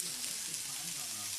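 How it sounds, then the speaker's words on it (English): Ground beef sizzles in a hot frying pan with a soft, steady crackling hiss that stays fairly faint throughout. "Turn your pan up just a little bit so you get a sizzle."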